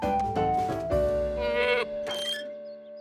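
A cartoon goat bleats, a loud wavering bleat in a few connected bursts followed by a quieter trailing cry, close and clear with no talk over it.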